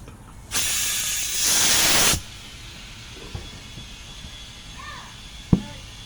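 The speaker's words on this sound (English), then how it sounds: "see if it'll take air, hold air." A burst of compressed air hisses loudly into a rusty old wheel rim through its valve stem for under two seconds, then stops, followed by a few faint clicks and a sharp tap in a quiet workshop.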